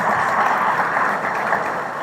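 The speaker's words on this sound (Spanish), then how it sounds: "pido también un fuerte aplauso de reconocimiento" A lunchtime audience at an American Chamber of Commerce event gives a sustained round of applause, a dense, steady wash of many hands clapping together that fades slightly toward the end.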